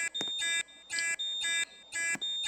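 A simplex fire alarm system in the Roblox video game sounds repeated rhythmic electronic alarm tones in evenly spaced bursts, clear and alone with no voices.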